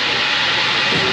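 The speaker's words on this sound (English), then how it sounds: "Oh, the air compressor." An air compressor on a roller coaster at Hersheypark lets out a loud, continuous hiss at close range, with no talking over it.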